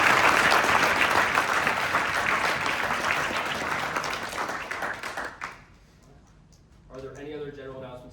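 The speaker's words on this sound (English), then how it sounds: "Everybody give a round of applause." A room of students at a student senate meeting breaks into sustained applause for a newly named deputy majority party leader, steady clapping that fades out after about five seconds before a voice speaks.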